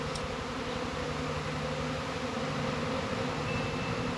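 A dense, continuous drone of many bees buzzing together, steady and close, with no other sounds.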